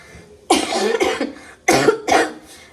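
Two close, harsh bursts of coughing, each a pair of quick rough coughs separated by a short pause, loud and near.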